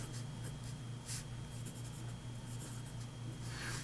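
A broad steel nib on a Click Aristocrat fountain pen scratching across a paper pad, close and quiet, with soft strokes and scratches over a low steady background hum.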